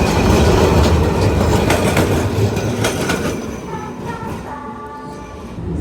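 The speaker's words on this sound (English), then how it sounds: "I love the tram system in Milan, though they are quite loud." A loud Milan tram rolls past on tracks outside a hotel, a heavy rumble with clattering wheels and faint squeals that fades gradually as it moves away.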